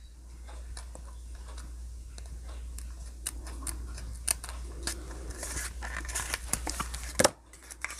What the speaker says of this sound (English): So I'm going to cut that little flap. I'm just going to cut the square off.